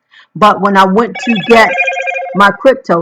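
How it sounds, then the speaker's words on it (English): A mobile phone rings with a steady electronic tone running beneath continuous close speech, the ringing sitting in the middle of the talk and lasting a second or more. "sorry about that, that was my phone"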